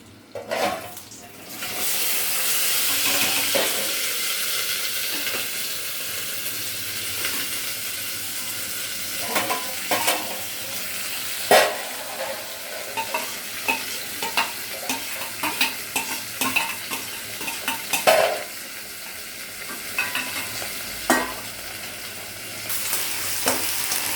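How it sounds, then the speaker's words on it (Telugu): Onions fry with curry leaves in a pan on the stove for a palak and sesame curry. A loud sizzle settles into a steady fry, and a spoon stirs with scattered clinks and scrapes nearby. Nobody speaks. "ఉల్లిపాయలు వేగాయి. ఇది కలుపుకోండి."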